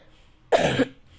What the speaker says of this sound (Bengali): আবার বলছি সরি, আমার কাশি হয়েছে।